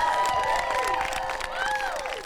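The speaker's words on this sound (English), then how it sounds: "can I have a quick round of applause for the wait staff?" Wedding guests at a reception applaud and cheer for the wait staff in a brief burst, with clapping and excited voices and whoops from the crowd.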